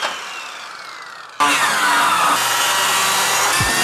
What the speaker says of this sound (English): we're gonna cut a bunch of boards like that.